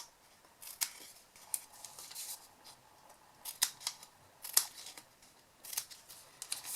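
Scissors snip the corners of a folded paper tray for tiered tealight holders, a string of crisp, close cuts at an uneven pace, with no voices.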